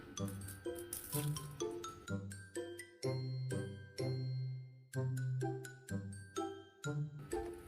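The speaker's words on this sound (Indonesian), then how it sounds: "Lalu diaduk-aduk sampai gula larut seperti ini ya." Sugar being stirred into boiling water in a pot for a Madurese porridge, with a spoon clinking and tinkling against the pot in a quick, repeated rhythm, close and alone.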